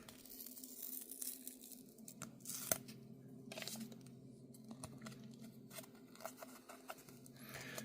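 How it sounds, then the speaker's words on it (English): An old Sea-Monkey food packet is torn open by hand close up, with crinkly ripping and crackling bursts scattered through the quiet and a sharp snap near the middle. "Let's rip this thing open and see what we got inside."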